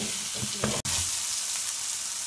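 Tomato sauce cooks in a pan with no added oil, a close, continuous bubbling sizzle and a couple of soft stirring knocks, broken once by a brief dropout.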